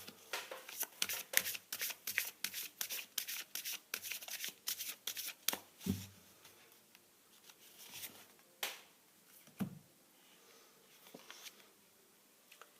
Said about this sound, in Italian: Mettiamoci le carte dell'Angelion.